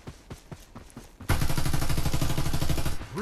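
Gunfire from a fight nearby in the Farlight 84 mobile game starts as a few scattered shots, then breaks into a loud, dense automatic burst.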